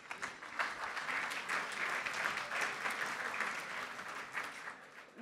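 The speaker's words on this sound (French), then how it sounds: "vous avez le droit de vous applaudir" Sustained applause from an audience at a supply chain directors' awards gala, steady and fairly even in level throughout with no one speaking over it.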